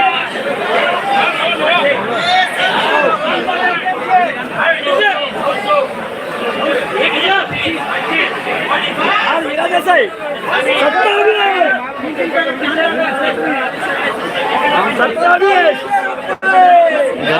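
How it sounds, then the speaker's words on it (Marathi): Dense crowd chatter fills the Solapur onion market, many overlapping voices forming a steady close hubbub with no pauses. "खूपच गर्दी दिसते"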